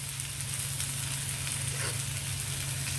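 Chicken legs roast in a pan with a steady, close frying sizzle. A constant crackling hiss and a low hum carry on throughout, with no talking.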